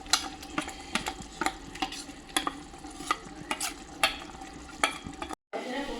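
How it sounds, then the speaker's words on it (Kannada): Ginger garlic paste fries in a pan with a soft, quiet sizzle, punctuated by frequent sharp spatula scrapes and stirring taps in an uneven rhythm. "ಈಗ ಶುಂಠಿ ಬೆಳ್ಳುಳ್ಳಿ ಪೇಸ್ಟ್ ಹಾಕೋಬೇಕು."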